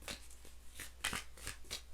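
A deck of cards is shuffled in a series of quick papery riffles and flicks, soft and close, with no talking.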